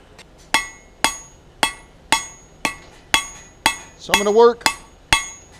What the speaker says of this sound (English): we're going to work our way back all the way to that punch mark